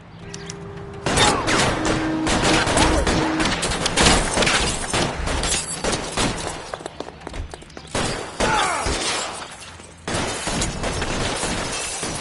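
Rapid video game gunfire aimed at car tires, dense bursts of shots with thuds and breaking impacts crowding the whole stretch, loud and close, with a brief lull near the end before firing resumes.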